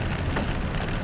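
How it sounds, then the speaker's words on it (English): Heavy rain drumming on a car during a drive through a cloudburst, a dense, steady hiss and patter close around, with no voices. "You see, it's still raining"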